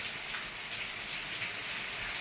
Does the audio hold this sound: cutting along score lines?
no